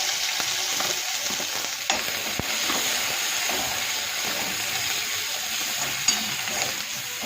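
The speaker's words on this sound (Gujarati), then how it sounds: "લીમડી શેકી દઈશું." Curry leaves roasting in a hot pan with a steady crackling sizzle and occasional stirring clinks, close and moderately quiet, with no talking.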